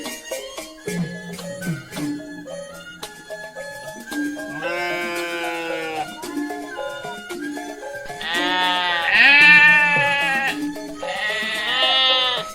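Cartoon goats at a livestock market bleat again and again in wavering, nasal calls, some short and some drawn out, loud and close, rising to overlapping cries near the end with no talk.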